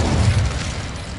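Spell blast from Hogwarts Legacy's Incendio fire charm, a deep booming burst with a low rumble that swells near the start and fades over about a second, with no voices.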